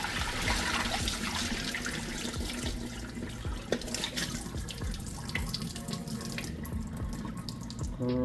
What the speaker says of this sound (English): So let's rinse this water off.